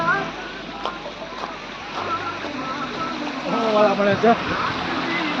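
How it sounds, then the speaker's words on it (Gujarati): Running water rushes steadily nearby amid rain, with people talking over the flow throughout. "કેટલું પાણી વહે છે"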